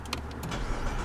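A 2010 Saab 9-5 Aero XWD engine starts with a push-button ignition, giving a brief, close cranking burst that settles into a low idle.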